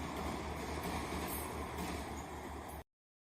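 A train passes close by in a continuous, dense roar of wheels and carriages with faint squealing, cutting off abruptly into silence.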